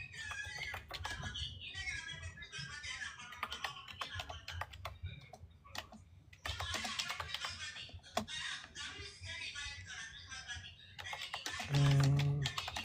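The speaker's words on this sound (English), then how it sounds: "Sorry, I'm typing." Rapid clicking keystrokes on a computer keyboard come in close bursts with short pauses, while people talk intermittently over the typing.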